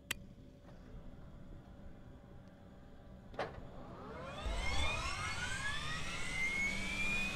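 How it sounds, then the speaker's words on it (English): Number 2 jet engine of an Eclipse 550 in the X-Plane 11 flight simulator spools up after a couple of clicks, a rising whine climbing in pitch and growing louder until it settles into a steady roar. "and we'll start engine number 2."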